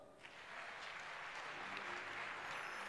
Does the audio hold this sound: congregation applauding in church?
yes